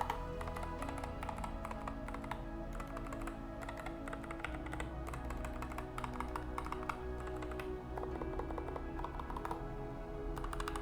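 Typing on a Nuphy Air60 low-profile keyboard with Gateron Brown switches: a steady, close stream of soft keystroke clacks running continuously for the whole stretch, no voices.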